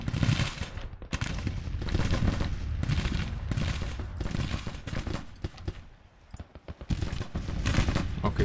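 Massed musket volleys and cannon fire from a Civil War battle in the strategy game Grand Tactician, loud dense crackling bursts repeating over several seconds with brief lulls between them.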